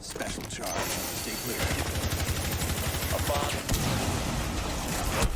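Rapid gunshots from the tactical shooter Rainbow Six Siege during a Thai pro league match, dense automatic bursts and rattling mechanisms, loud and close, with a caster's voice commentating over the shooting.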